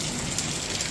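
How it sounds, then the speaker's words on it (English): Small hail coming down hard and bouncing off surfaces during a thunderstorm, a dense, steady hiss of rapid patter with no voices. "the hail is not that big, but it's coming down pretty hard"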